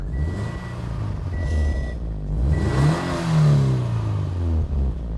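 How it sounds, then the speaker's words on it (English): A deep, throaty 2016 Scion FR-S exhaust with the optional TRD exhaust system rumbles close by, then revs up sharply and settles back to a burbling idle. "It gives a much throatier, burlier sound to the already pretty good sounding car."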